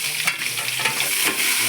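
Drumsticks sauté in coconut oil with mustard seeds, a close, loud, steady sizzle with quick stirring scrapes running through the short burst.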